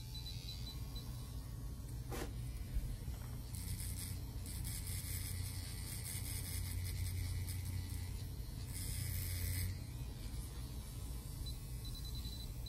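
A handmade rotary tattoo machine runs with a steady mechanical hum and whir, shifting slightly in pitch partway through, alone with no talking.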